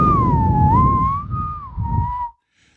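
A voice whistles a single wavering tone imitating a whistle, close and clear over a low rumble, ending abruptly after about two seconds.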